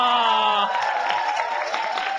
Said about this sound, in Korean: 박수 보내세요.